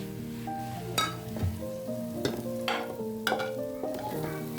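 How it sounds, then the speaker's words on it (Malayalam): A spoon scrapes and stirs a thick masala of turmeric and biryani spice mix in a sizzling frying pan, several distinct strokes over soft background music. "മസാലയിലേക്ക് മഞ്ഞളും ബിരിയാണി മസാലയും കൂടെ ഇട്ട് കൊടുത്തിട്ട് മിക്സ് ചെയ്ത് കൊടുക്കാൻ"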